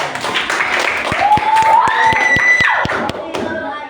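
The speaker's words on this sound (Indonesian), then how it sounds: "Boleh, tepuk tangan." Brief clapping from a classroom of students after a talk about career ambitions, a short burst of hands and some shouts, with voices mixed in.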